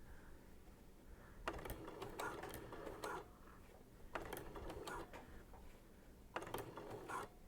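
A sewing machine fitted with a gathering foot runs in three separate bursts of rapid stitching while gathering fabric, with quiet pauses between runs and no talk over it.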